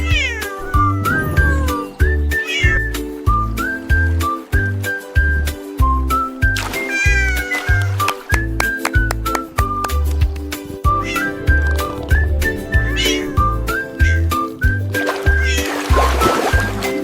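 Cat meows in a French children's song, repeated sung-style meows over a bouncy rhythmic backing with a steady beat, loud and continuous, ending in a rougher caterwaul-like burst.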